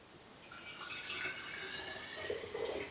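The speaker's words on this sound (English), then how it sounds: "So I'm going to pour 1 1/3 cup of water." Water pours into a jar for pickled eggs, a soft, continuous trickling splash that rises and bubbles slightly as the level climbs, faint and close with no voices.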